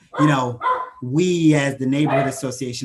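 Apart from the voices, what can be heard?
dog barking in the background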